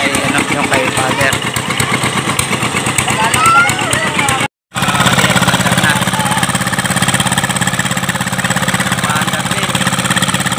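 A boat engine runs loud and close on a river during a festival, a steady rattling motor drone with a brief cut partway through, while voices talk over it.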